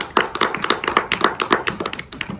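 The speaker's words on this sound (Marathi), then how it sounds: "आता टाळ्या वाजा" Several hands clapping quickly and unevenly in a small group celebration, crisp close claps in a rapid irregular rhythm.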